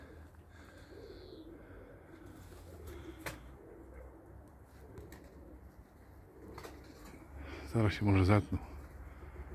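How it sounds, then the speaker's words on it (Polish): Racing pigeons flying over a loft in Elbląg, with soft cooing and a brief burst of wing flapping near the end, heard under someone talking outdoors over light wind. "Gołębie się ścięły."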